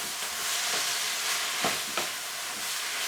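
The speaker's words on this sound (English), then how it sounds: "Stir the rest back in so that we've got a mix." Cooked mince being stirred in a hot pan, a steady broadband sizzle with a couple of soft scraping strokes near the middle, close and fairly loud with no talking.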